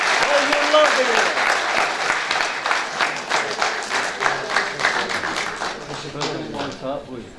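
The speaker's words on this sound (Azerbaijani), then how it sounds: "Gəlin İlhamı bir ürəkdən alqışlayın" An audience at an Azerbaijani theatre workers' event applauding İlham, dense clapping that starts strong and thins gradually, with voices and cheers mixed into the crowd noise.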